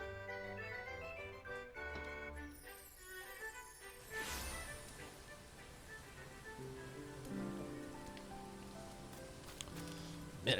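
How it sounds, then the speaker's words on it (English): Rain falls in the Final Fantasy XIV video game as a soft, continuous patter beneath melodic in-game music with sustained tones and notes. The rain stays fairly faint and steady throughout. "Man, it's raining now."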